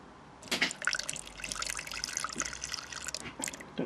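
Fuel pours out of a Fiat Panda 4x4 fuel tank in uneven splashing trickles and drips, fairly close and quiet, with no talking over it.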